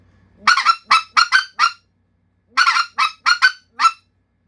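A speckled goose call sounds in two quick bursts of five or six sharp single clucks, loud and close, separated by a short pause.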